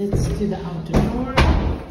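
An outer door of a residential building is worked, with a couple of solid thumps and knocks as it opens and swings shut, spaced a second or so apart, close and fairly loud.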